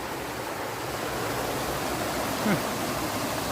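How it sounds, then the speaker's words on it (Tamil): Steady rushing water fills the clip, a broad continuous roar of a forest waterfall pouring nearby, with no breaks. "காட்டாத்து அருவி தண்ணி எப்படி வருது பாருங்கள்"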